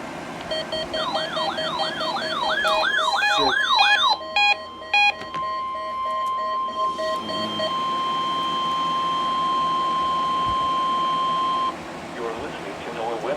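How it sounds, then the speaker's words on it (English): NOAA weather radio alarm test from Bridgeport, Ohio: a warbling siren-like tone sweeping up and down, then bursts of digital data chirps, followed by a long steady high alert tone held for several seconds before cutting off. "The preceding tone signals were a test of the alarm device of this weather radio station."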